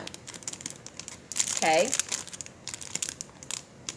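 A plastic bag holding a moonstone crystal crinkles in a short burst of close, crisp rustling, with a little talk nearby.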